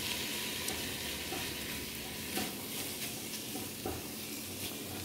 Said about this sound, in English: Let my ground beef brown, and then I'll add the rest of the ingredients.